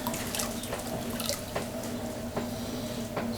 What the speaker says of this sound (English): Sponge out any excess water.